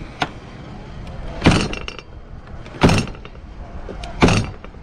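The door of a Freightliner Columbia truck that won't latch is slammed three times, each hit a sharp metallic thud with rattle, spaced about 1.4 seconds apart, close and alone.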